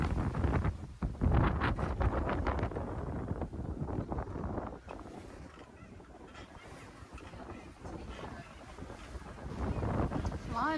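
A sailboat running fast in 14 knots of wind, with a steady rush of wind across the microphone and water noise throughout, plus a brief voice or squeak near the end.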